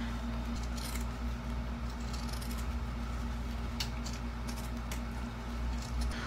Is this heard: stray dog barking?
no